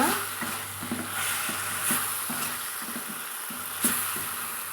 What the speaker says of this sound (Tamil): நம்ம சேர்த்துட்டு கலந்துட்டுக்கலாங்க